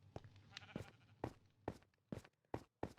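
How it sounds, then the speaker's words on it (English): A sheep in the Minecraft video game bleats in a series of short, evenly spaced cries, clear and alone. "There's just a sheep right there."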